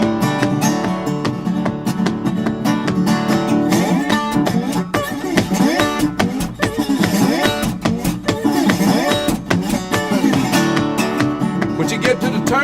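A big train splitting rails, imitated musically with a dense, driving harmonic chug and rhythmic pulses that keep a steady rolling beat throughout.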